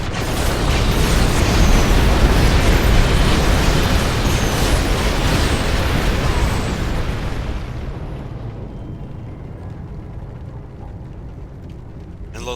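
Weapons fire and explosions in the StarCraft II: Legacy of the Void campaign, a loud, dense barrage of booms and bursts that rumbles on and then thins out toward a quieter tail.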